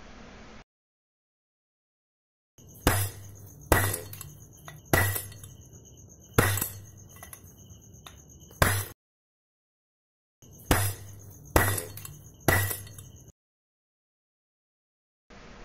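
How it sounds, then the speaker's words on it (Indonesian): Hammer blows ringing on a heated padlock to force it open, two bursts of sharp metallic strikes, about five then three, loud and close with no talk. "langsung saja kita pukul menggunakan palu yang sudah kita siapkan"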